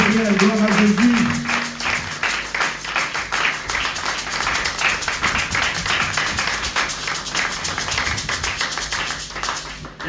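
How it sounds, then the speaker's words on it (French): A church congregation applauding loudly in praise of God, steady dense clapping sustained for about ten seconds with a voice or music running underneath. "Acclamons très très très fort pour la gloire de notre Seigneur"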